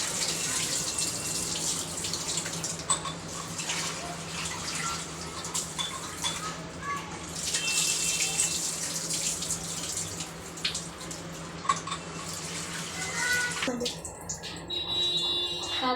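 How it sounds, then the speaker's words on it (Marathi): Tap water runs steadily into a sink while chana dal is rinsed, a constant close hiss with faint splashes and clinks until the flow cuts off near the end. "त्याला चांगलं 3-4 पाण्याने धुवून घ्यायची डाळ."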